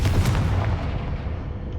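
A Confringo fire spell in Hogwarts Legacy bursts in a loud, deep explosive boom, with a sharp crackling onset that rolls into a rumbling tail and fades over about two seconds.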